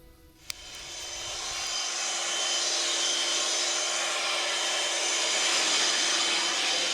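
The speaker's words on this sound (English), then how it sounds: "I've been using this blower to kind of clean the carpets in here" A blower runs inside a truck cab to clean the carpets, starting with a brief click and then rising into a loud, steady, breathy roar that holds to the end.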